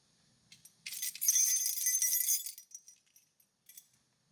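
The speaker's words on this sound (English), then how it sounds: "When I shook my keys over the board" A ring of keys shaken over a circuit board jangles in a dense metallic burst of about two seconds, with a few lighter clinks trailing after it, close and alone.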